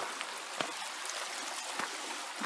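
A valley stream in Sheldon, Washington flows in a steady, broad rushing wash, with faint drips and splashes standing out now and then, close and continuous.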